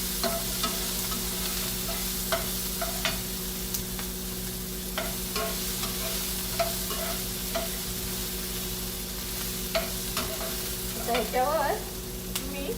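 Onion and herb stems sauté in a pan for mung bean usal, a soft steady sizzle close by with repeated light scrapes and taps of a spoon stirring, and no talking.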